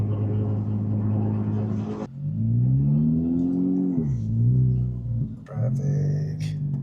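A 2023 Honda Civic Type R engine drones steadily in third gear while driving, with a rising and falling tone as revs shift and a brief lift near the middle, close and moderately loud from inside the cabin.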